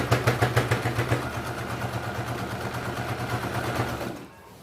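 An electric sewing machine runs in fast, steady bursts while two layers of cloth are stitched with a half-inch seam during a basic stitching class on making a market bag. The motor whirs loudly and evenly close by, then stops abruptly.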